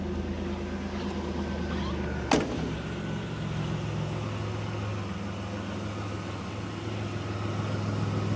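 A turbocharged V6 in a Buick Grand National with a four-speed automatic idles at a steady, low rumble, close and continuous, with a single sharp click partway through.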